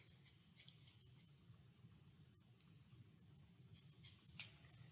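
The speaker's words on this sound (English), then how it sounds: "then use your scissors to cut through one side of the loops" Scissors snip through loops of yarn in a series of crisp, close clicks, several quick cuts early and a few more near the end, quiet over a faint background.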